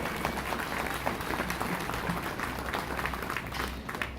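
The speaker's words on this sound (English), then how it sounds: "give all these people that help put on this show a big round of applause" A crowd applauding steadily throughout, a dense wash of clapping at moderate distance with no pauses.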